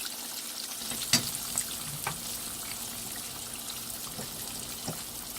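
Calamari and whiting fish fry in a pan, a quiet, steady crackle with a few small pops and clicks scattered through it, no one speaking.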